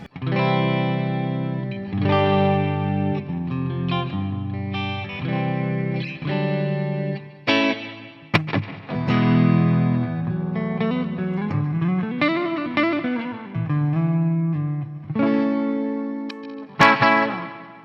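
Clean electric guitar played alone through a Coppersound Triplegraph pedal, chords and single notes ringing out with a spacious reverb tail, fairly loud and continuous.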